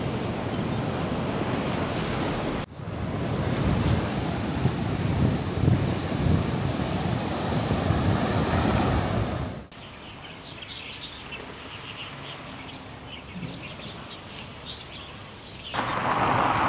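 Sea waves crash right onto a seaside road in the border town of Dongxing. The surf makes a loud, continuous roar with heavy wind buffeting the microphone, and it is cut into a few sharp segments. There is no talking.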